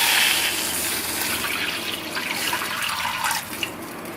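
Half a cup of water pours into a kadai pan, a steady close splashing gush that runs for several seconds with no voices.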